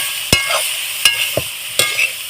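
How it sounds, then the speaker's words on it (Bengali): Soybean chunks fry in a pan with a steady sizzling hiss, broken by three or four sharp, close scrapes and knocks of a spatula stirring them. "আবারও আমি সয়াবিনগুলো ভালোভাবে ভেজে নেব"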